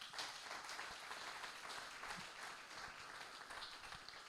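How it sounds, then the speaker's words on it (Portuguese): A church congregation applauds for Jesus during a worship service, with steady, faint clapping that runs continuously and sounds distant and diffuse. "Aplauda, queridos, o Senhor Jesus."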